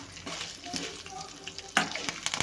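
Whole dried red chillies, ginger and curry leaves fry in a pan, a steady close crackle broken by a few sharper pops and scrapes of stirring.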